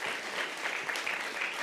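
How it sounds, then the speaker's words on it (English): An audience at a women's empowerment summit claps in steady, dense applause, loud and continuous throughout with no voices over it. "let's give Dr. Woodson another round of applause for that valuable presentation"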